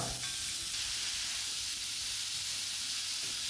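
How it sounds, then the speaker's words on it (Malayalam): Onions and green chillies frying in hot coconut oil in a pan, a steady broad sizzle held close throughout with a few faint stirring knocks and no talk. "ഇനി ഇതാ നമുക്ക് വെളിച്ചെണ്ണ ഒഴിച്ചു ചൂടായി വന്ന ശേഷം ഇതാ ഇനിയിപ്പോൾ നമുക്ക് വലിയ ഉള്ളിയും പച്ചമുളകും അത് വഴക്കിയെടുക്കാം"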